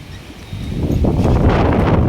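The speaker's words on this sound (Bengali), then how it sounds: "কি সুন্দর বাতাস দিচ্ছে দেখো," Wind gusting outdoors, building from a soft rush into a loud, steady buffeting roar against the microphone, with no talk.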